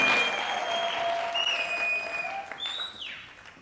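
A church congregation claps steadily together for a few seconds at a worship service, a dense wash of applause with a few faint high tones drifting over it.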